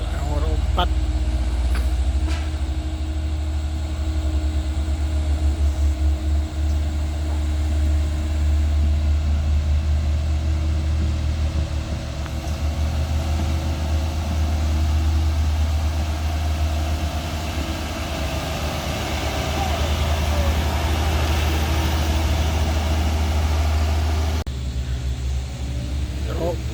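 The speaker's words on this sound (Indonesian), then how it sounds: "Truk diesel nomor 4." A heavily loaded Colt Diesel Super HDX truck engine labours up a steep hill, a loud, deep diesel drone running steadily and continuously throughout before briefly easing near the end.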